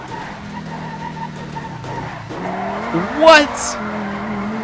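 An armored truck in GTA 5 skids sideways at speed: engine drone under a sharp rising tire squeal near the end, with a voice talking over it.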